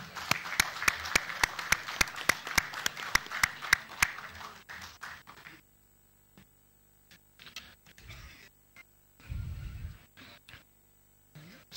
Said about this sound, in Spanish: Con un aplauso despedimos a nuestros distinguidos invitados